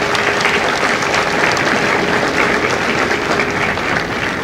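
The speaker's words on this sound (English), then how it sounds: "Ladies and gentlemen, a round of applause for our recruiters and our combat instructors." A large audience applauds Marine recruiters and combat instructors at a recruit graduation ceremony at MCRD San Diego, with dense, steady clapping that holds at an even loudness for several seconds.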